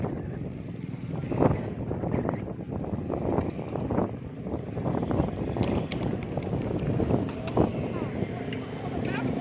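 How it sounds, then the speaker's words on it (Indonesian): Strong wind gusts during a heavy rainstorm in a Bekasi residential area, roaring steadily with broadband buffeting and occasional louder surges, wind noise dominating the microphone. "Angin besar."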